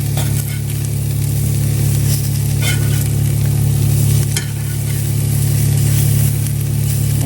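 Potatoes fry and sizzle steadily in a hot pan as they are turned over for a crisp golden side, a continuous close hiss with occasional scrapes from the flipping and a low steady hum underneath.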